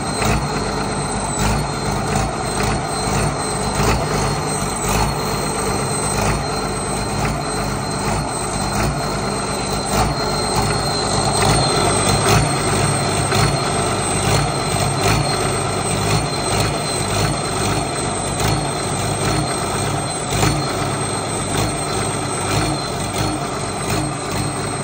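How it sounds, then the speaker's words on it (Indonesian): Caterpillar truck engine running loud and close with unstable RPM, its steady rumble wavering and surging unevenly throughout. "secara pendengaran sudah ada masalah di engine RPM ya, kelihatan RPM tidak stabil ya"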